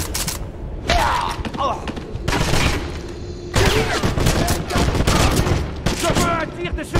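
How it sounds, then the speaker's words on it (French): Bursts of suppressive gunfire rattle through a Wolfenstein firefight, repeated volleys of loud, dense shots in clusters separated by brief lulls, with voices shouting at times beneath the fire. "Je veux un tir de suppression."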